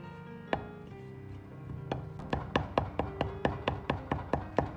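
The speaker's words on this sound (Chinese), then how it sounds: "最后再切成小颗粒" A knife chopping pork belly into small pieces on a board, a steady run of sharp, close taps speeding into an even rhythm after a few scattered cuts.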